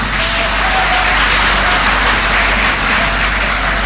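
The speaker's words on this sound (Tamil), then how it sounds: "என்ன அவ்வளவு கைதட்டு" Audience at a Tamil pattimandram debate show bursts into sustained, dense applause, a loud, steady wash of clapping from a large crowd filling the hall without pause.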